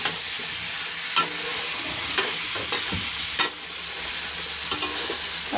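Potatoes and meat fry with ginger, garlic, onion, turmeric and chili in a pan, giving a steady close sizzle broken by a few sharp scraping stirs.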